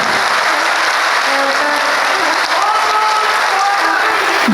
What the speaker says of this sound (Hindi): जोरदार तालियों से अपनी सहमति प्रदान करें